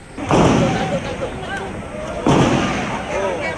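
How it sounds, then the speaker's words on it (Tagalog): Mortar shell fired by MNLF forces exploding nearby during the 2013 Zamboanga siege, two loud booming blasts about two seconds apart with rumbling decay, while voices talk in the background. "isang mortar mula sa pwersa ng MNLF ang bumagsak at sumabog"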